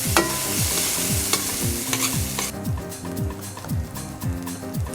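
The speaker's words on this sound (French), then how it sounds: "on assaisonne les pommes de terre, on les fait sauter légèrement pour leur donner une belle couleur" Seasoned potatoes sautéed in a pan give a steady close sizzle, broken by repeated rhythmic scrapes of a utensil stirring and tossing them.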